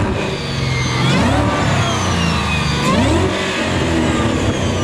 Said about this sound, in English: give us a couple revs up front.